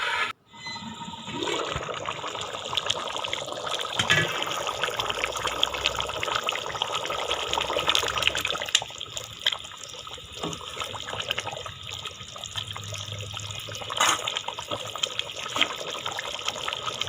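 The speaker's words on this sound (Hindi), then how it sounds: "थोड़ी देर फ्राई करने के बाद इसमें अब पानी ऐड कर दें" Water pours and sizzles into a karahi of frying potatoes, a steady hissing, gurgling stream that runs loudly at close range and settles into a bubbling simmer.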